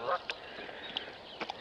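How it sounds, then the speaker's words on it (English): Canada geese honk at a distance outdoors, a few faint scattered calls spread over under two seconds, with soft background noise. "Lots of geese. Canada geese."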